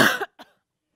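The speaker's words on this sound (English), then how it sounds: "so my cough is telling me that it's time to end" A single sharp cough followed by a smaller second cough, close and loud, then silence.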